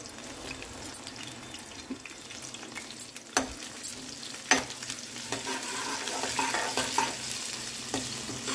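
Green chillies frying in a pan, a crackling sizzle with sharp pops and spatters as a utensil stirs and scrapes, close and uneven in loudness.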